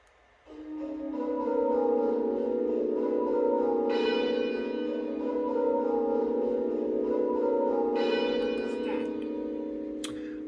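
Muffled church bells rung as a Virtual Belfry simulation, with the tenor left open at backstroke, tolling in a steady, even round that carries on continuously throughout, with brighter open tenor strikes standing out.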